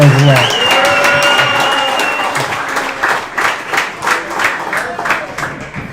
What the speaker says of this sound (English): Please give Coach and Enzo a round of applause.